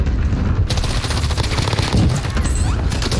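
Gunfire in the Call of Duty Warzone video game: loud rapid automatic bursts crackle almost continuously, sharp close shots layered over heavier booms and rattling echoes.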